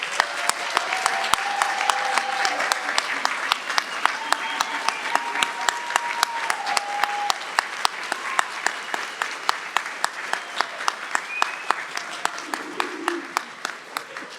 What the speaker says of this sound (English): Let's have one more round of applause for these graduates.